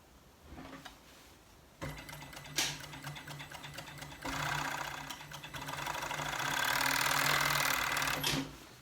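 A sewing machine topstitches the yoke seam on cargo pants in quiet bursts of rapid, whirring stitching, pausing briefly between runs and speeding up toward the end.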